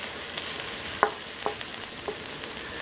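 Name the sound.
vegetables frying in a pan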